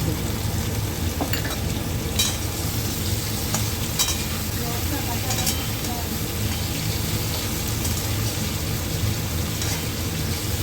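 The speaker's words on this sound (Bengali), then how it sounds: "এগুলোকে এখন অল্প তেলে ভেজে নিয়েছি" Prawns fry in a little oil, giving a continuous close sizzle broken by scraping stirs and light spattering, with a faint hint of background voice.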